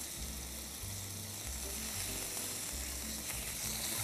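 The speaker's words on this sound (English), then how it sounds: "we're just trying to get a good sear on each side" Meat searing in olive oil in a cast iron pan gives a loud, dense, continuous sizzle close up, with no voices over it.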